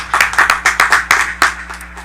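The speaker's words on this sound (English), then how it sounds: "Definitely another round of applause." Graduates, families and friends clap through a commencement ceremony for a 2022 Doctor of Medical Science class, sharp overlapping claps forming a steady round of applause, close and loud with no talking.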